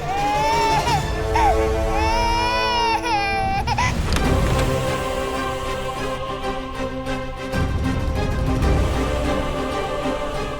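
A young girl crying in a Hindi TV drama scene, with wavering, sobbing wails over a dense, loud musical background; after the first few seconds the crying gives way to music and rain-like noise.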